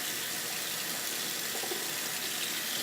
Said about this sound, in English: I have just some blueberries that I've already rinsed off. I'm going to rinse them again.